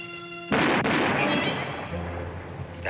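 A single distant rifle shot rings out sharply, then a long rolling echo fades over the next two seconds, loud and alone, with a low hum beneath.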